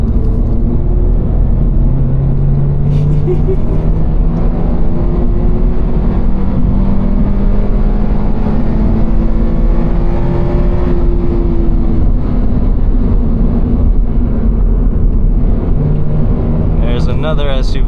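A car engine drones loudly and steadily while driving and speeding up in traffic, with tire and road noise and a voice talking over it throughout.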